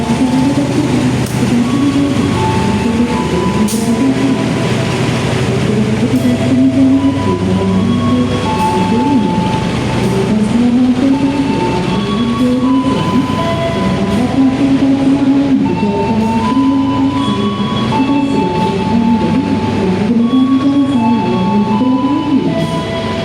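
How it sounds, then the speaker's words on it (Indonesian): The Kaligung train arriving at Tegal station rumbles steadily at close range, with squealing, shifting tones from wheels and brakes throughout, loud and continuous, with no voices. "Kereta api Kalikung yang akan sang pengembara naiki persiapan akan masuk di stasiun Tegal."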